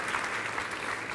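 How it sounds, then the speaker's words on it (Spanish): A church congregation claps briefly for Jesus during worship, a short, fairly faint burst of dense applause heard without speech. "Y dele un fuerte aplauso a su Jesús bonito"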